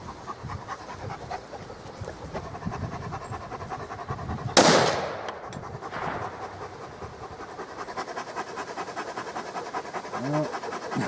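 One sharp rifle shot cracks out during long range shooting outdoors, loud and close, followed by a brief echo, with a dog panting nearby before and after.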